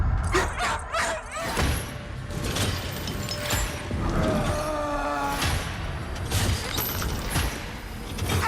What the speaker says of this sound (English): why do we have to hear the dog crying?